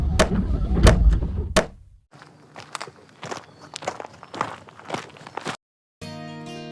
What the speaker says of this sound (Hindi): स्वर्ण प्रभा अपने घर का दरवाजा खटखटाने लगी।